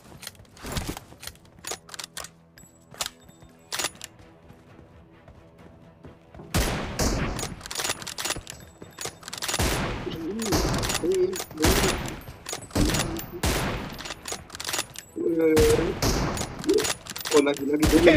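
Gunfire in the PUBG Mobile video game: rapid clustered bursts of automatic shots and single cracks through the clip, louder in the second half, mixed with game sounds and someone talking over them.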